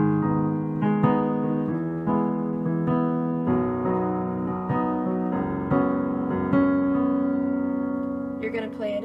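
A piano plays a passage from a song slowly, with steady sustained notes and chords layered at moderate volume. A brief different sound comes in at the very end.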